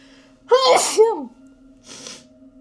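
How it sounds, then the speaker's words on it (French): A single loud sneeze with a sharp intake before the burst, followed by a smaller, breathy second sound; no talking. "Je vais éternuer."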